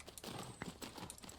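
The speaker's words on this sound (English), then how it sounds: "I like how animated the canter is." Horse hooves cantering in the Tales of Rein Ravine riding game, a rhythmic run of soft clip-clop beats at a brisk pace, moderately near with no talk over them.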